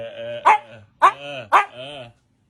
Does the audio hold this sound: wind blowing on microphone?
no